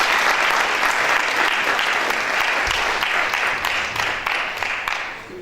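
Audience applause for Mr. Albert Mwabilois at a gathering of Congolese in Belgium: dense, steady clapping from a sizable crowd, close and loud throughout, thinning slightly toward the end.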